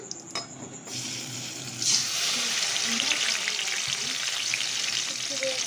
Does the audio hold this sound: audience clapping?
no